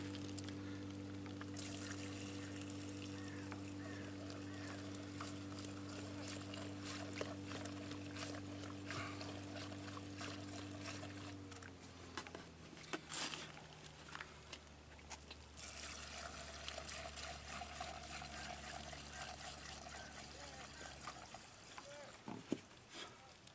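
Fuel pours into the tank of a Sharmax SM 9.9 HS outboard boat motor, a soft liquid trickle heard alongside a low steady hum that shifts partway through, with someone talking over it.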